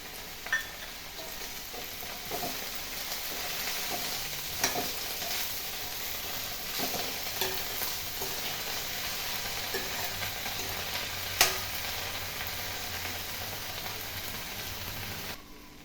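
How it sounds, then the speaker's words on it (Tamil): Drumstick leaves sautéing in a pan make a soft, continuous sizzle with light stirring scrapes and an occasional sharp utensil tap, fairly quiet and with no speech. "ஒரு 5 நிமிஷம் வதங்கினா போதுங்க, நல்லா வதங்கிடும். முருங்கைக்கீரை வெந்துடும்."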